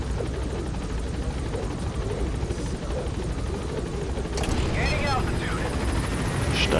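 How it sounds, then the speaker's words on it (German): A helicopter in the video game Metal Gear Solid V: The Phantom Pain thrums with a continuous rotor drone, growing louder partway through, while someone talks over it. "Deswegen gehen wir jetzt hier mal in unseren Hubschrauber rein."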